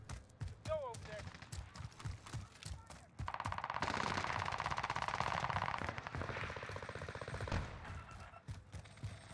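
Rapid automatic gunfire bursts rattle through a Warzone video game match, mixed with game sound effects and voice lines, loud and sustained from the middle onward after scattered earlier shots.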